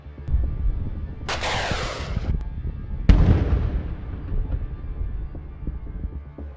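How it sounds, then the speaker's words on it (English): Two heavy blasts from an explosion destroying a Russian armoured personnel carrier during fighting in Ukraine: a sharp crack near the start, then a louder, deeper boom that rumbles and fades over several seconds, with no voices. "The APC was completely blown apart."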